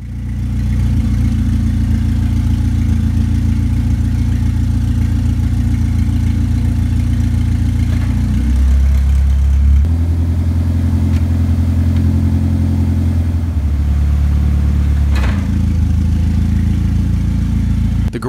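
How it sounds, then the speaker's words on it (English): A project car fitted with a lawnmower carburetor idles loudly inside a garage, a steady low engine rumble whose pitch shifts and dips a couple of times as it runs, with no talk. "I can only move the car while it's idling."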